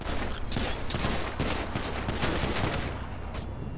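Sustained, dense gunfire in a video game rattles on continuously as rapid automatic bursts, loud and close throughout with no clear speech over it.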